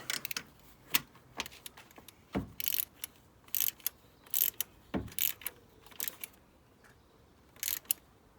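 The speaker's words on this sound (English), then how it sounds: "get your torque wrench out and torque them to spec" A torque wrench tightening spark plugs during a Kia Picanto service gives sparse, close clicking bursts of a ratcheting mechanism, with brief quiet gaps between groups of clicks.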